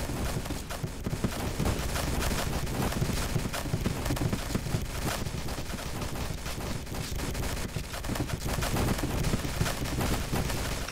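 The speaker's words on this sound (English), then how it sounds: "How long are we gonna sit here and rake my ears with the sound of explosions?" Dense video game gunfire and explosions roar continuously at high volume, a relentless crackling barrage of shots and blasts with no pauses and no speech.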